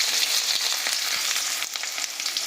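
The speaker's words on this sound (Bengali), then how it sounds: "আমাদের সরষের তেল গরম হয়ে গেছে, এতে আমরা কেটে রাখা পেঁয়াজটা দিয়ে দিচ্ছি" Chopped onion sizzling in hot mustard oil at the start of a country chicken curry, a dense, continuous close-up crackle with small popping bursts and no talking.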